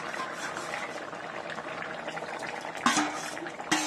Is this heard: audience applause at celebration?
no